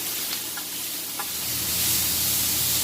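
Pork seasoned with garlic salt and pepper being stirred in a hot pan, a steady close sizzle with a few light scrapes of the utensil, the frying growing slightly louder toward the end.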